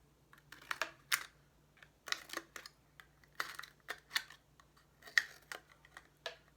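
Quiet, irregular snipping and clicking sounds close by as blades cut slits around a plastic water bottle, with short pauses between cuts.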